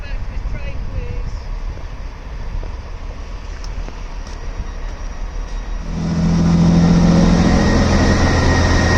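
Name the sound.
train departing from the platform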